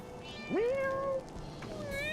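A single cat meows in Final Fantasy XIV, a clear rising mew that holds briefly and trails off, followed by a fainter second mew over soft background ambience.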